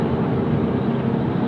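Malaysia Airlines jet in special livery on approach to Sydney Airport, a steady distant engine roar with broad low rumble and no talk, holding even in level throughout.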